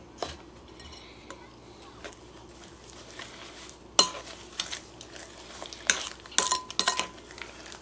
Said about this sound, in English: I'm going to mix in some sugar with that.